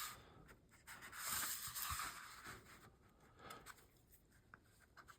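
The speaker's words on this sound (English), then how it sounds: "Let me finish drawing the lines here." A pencil draws lines across paper, producing soft scratchy strokes that rise and fall in short bursts, faint and close.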